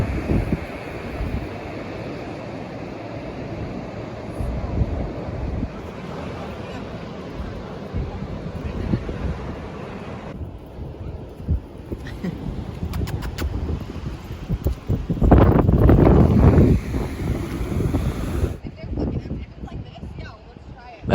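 Ocean waves and wind at Shelter Cove beach in California where mountains meet the sea, with steady wind buffeting the microphone and surf rumbling, swelling louder near the end, while a person talks over it.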